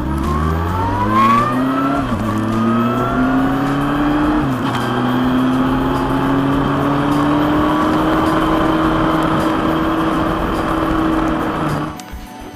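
Kawasaki Concours 14 motorcycle engine pulling hard through the gears, a loud steady roar whose pitch climbs after each shift, then easing off at the end.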